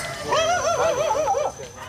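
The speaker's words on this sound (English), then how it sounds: "Everywhere is a chorus of dogs and roosters." A dog in Bali yelps and whines in a rising, wavering series of high cries for about a second, fairly close, over faint background noise.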